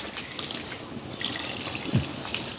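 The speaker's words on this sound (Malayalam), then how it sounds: "ഒരു പൊട്ട് കൂടി വെള്ളം ഒഴിക്കാം" A small splash of water runs into a thick fish curry paste in a pot for a Kerala meen curry, a brief close trickling pour lasting a couple of seconds.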